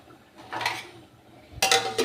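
A lid set onto a pot of kheer on a gas stove: a faint scrape, then a sharp metallic clatter and clink of the lid settling near the end, quiet otherwise.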